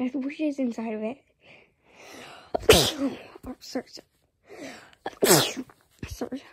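A person speaks briefly, then two sharp sneezes follow a few seconds apart, each loud and close, with soft breathing between them.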